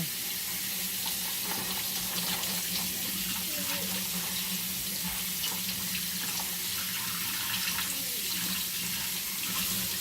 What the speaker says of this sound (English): Wash up our carrots.